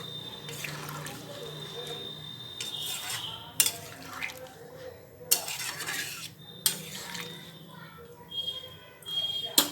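A spoon stirs an egg, potato and soybean curry in a pot after a bowl of water is added, making soft scraping and wet sloshing with several sharp metallic clinks against the pot rim.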